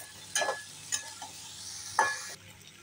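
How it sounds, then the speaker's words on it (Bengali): Soybean chunks and potato sautéed with spices in a pan, giving a soft steady sizzle with a few sharp spatula scrapes and clinks spaced through it, close and fairly quiet, no talking. "সয়াবিন আর আলু এটাও সাথে খুব ভালো করে কষে নেবো"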